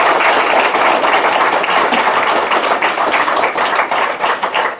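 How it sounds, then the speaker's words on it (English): An audience at a student center dedication ceremony claps in a steady, loud round of applause that lasts the whole stretch and tapers slightly at the end. "I want you all to give a round of applause to John Wolf."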